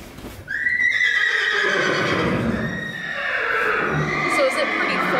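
A horse gives a loud, close whinny inside a busy equine science center barn housing ponies, draft horses, paints and quarter horses, followed by softer neighing and stable noise under people talking.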